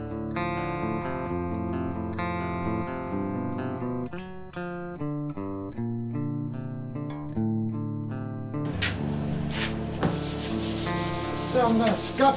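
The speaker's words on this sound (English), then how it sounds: "So I'm going to scuff down this tail, and I'm going to get a new piece of sandpaper that I can hold on to." Sandpaper scuffing the tail panel of a micro sprint car in a garage setting, steady back-and-forth rubbing strokes close to the mic, running continuously with no talk.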